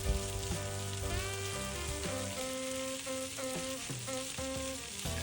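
Rice frying in a pan for crispy rice poke, spread out so the heat gets through, makes a soft steady sizzle under louder background music, with no voices.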